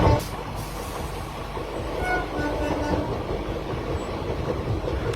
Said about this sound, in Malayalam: ദുർഗ് സ്റ്റേഷനിൽ വണ്ടി ഒരു ചെറിയ രോദനത്തോടെ നിരങ്ങി നിൽക്കുകയാണ്